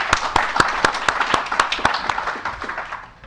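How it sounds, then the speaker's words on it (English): A small group claps steadily for the staff at a bar association section and committee training session, with crisp, evenly spaced claps that slowly thin out and fade toward the end. "I'd really like to give a round of applause to the staff"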